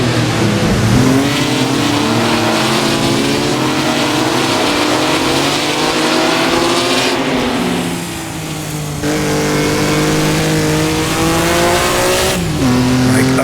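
Maserati 250F race car engine in a sim racing game, loud and continuous, revving hard with rising pitch sweeps through the gears and a brief dip around a corner before climbing again.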